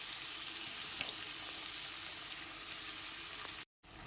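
Soaked dalia (broken wheat) is stirred into a spiced pan over a low flame, giving a steady, soft sizzle with a few light clinks and a brief cut-out near the end.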